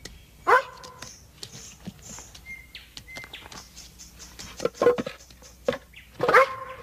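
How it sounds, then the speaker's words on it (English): A search and rescue dog barks in short, separate bursts at the find, a sharp yelp near the start and a cluster of barks toward the end, with faint bird chirps between them. "the dog's job is to scratch and bark to alert the handler to the area with the most intense scent."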